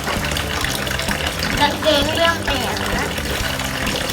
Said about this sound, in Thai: ขยี้ขยี้ผ้าน่ะโอ้ย น้ำหก